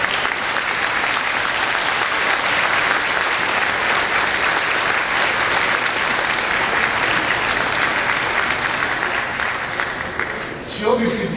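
Loud, sustained applause from a large crowd, clapping steadily for several seconds before tapering off near the end.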